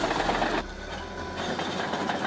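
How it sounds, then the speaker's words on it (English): A 200-horsepower crawler bulldozer engine drones steadily and loud throughout, with a dense mechanical rumble that shifts in tone partway through as the machine works through soil and rock. "The 200 horsepower engine roars loudly."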